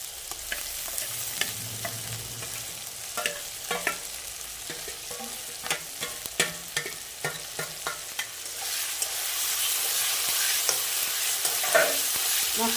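Ginger, chili, garlic and onion pastes stirred in a frying pan for an egg and cauliflower curry, with scraping spatula strokes over a sizzle that swells louder toward the end, close and with no voice.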